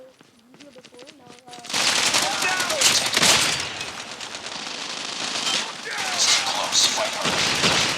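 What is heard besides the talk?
assault rifle gunfire in a video game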